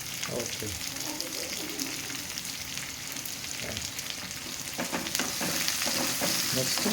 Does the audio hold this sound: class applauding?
no